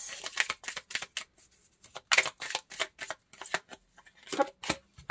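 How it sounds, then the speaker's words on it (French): Tarot cards being shuffled and one drawn from the deck, a series of close, crisp riffling bursts and soft flicks with uneven rhythm, heard alone at low volume. "On va prendre une deuxième carte."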